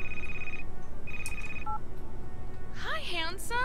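Telephone ringing in the horror video game Crimson Snow: two bursts of a steady electronic ring tone, then a short chirp, followed by game voice and noise over a constant low background hum.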